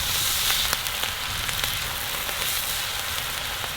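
Salmon sears in a hot pan after a flip onto its third side, a constant close crackling sizzle with a few faint taps and scrapes scattered through it and no voices.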